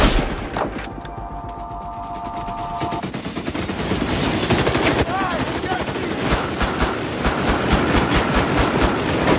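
Rapid automatic gunfire and scattered shots in the Battlefield Hardline video game, loud and dense bursts with booms running through the whole stretch, mixed with game noise and brief shouting voices.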